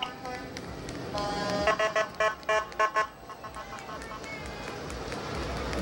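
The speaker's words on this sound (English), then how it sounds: "This is the Tewksbury Rescue Trucks first." A Tewksbury rescue truck rolls past in a Memorial Day parade, sounding a series of short, loud horn blasts in a choppy rhythm over crowd and street noise.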